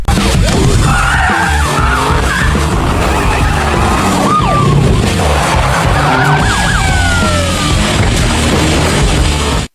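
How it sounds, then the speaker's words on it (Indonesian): Police cars chase a getaway driver in the film Eenie Meenie: wailing sirens sweep up and down while tires skid and engines roar in a loud, dense action mix that runs throughout. "ternyata dia sudah ditunggu oleh para polisi hingga aksi kejar-kejaran pun tidak bisa dihindarkan"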